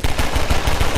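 Rapid automatic turret gunfire from the video game Half-Life 2, a dense, loud, continuous burst of shots with a steady rattling rhythm filling the whole second, no voices over it.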